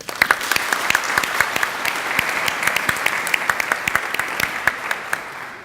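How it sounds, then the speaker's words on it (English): An audience at a leadership program graduation ceremony breaks into a round of applause: sustained, fairly close clapping from a crowd with sharp individual claps standing out, and no speech over it. "So please give yourself a round of applause for your achievements."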